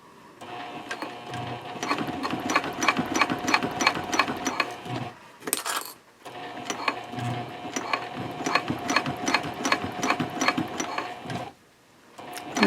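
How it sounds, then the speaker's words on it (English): A sewing machine stitches a Cordura fabric trifold wallet in a fast, even mechanical patter, close and steady, with a brief stop for pivoting the fabric midway and another short break near the end. "I will pivot again and stitch in 3 inches."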